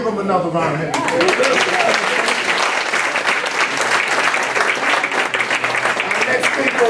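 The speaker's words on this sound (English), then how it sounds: "Give them another round of applause." Loud, dense audience applause for performers at a Black History Month event at Yuba College, filling the room steadily for about seven seconds, with some voices mixed in near the start.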